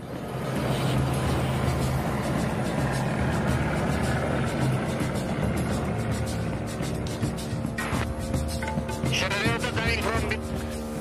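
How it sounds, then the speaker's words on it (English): A Pilatus Porter plane takes off from a short runway, its engine a loud, continuous broadband drone with a steady tone underneath throughout. "The end of the runway is only a few meters away, but it's no problem for this plane."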